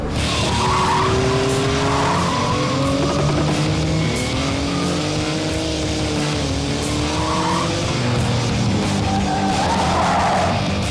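A Porsche GT2 RS slides with its tyres squealing loudly and continuously, the pitch wavering as the car drifts, over a steady engine roar throughout.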